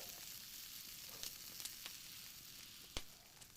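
Rabbit frying in hot oil in an outdoor wood-fired fryer, a quiet, steady sizzle with a few sharp pops and crackles, no voices.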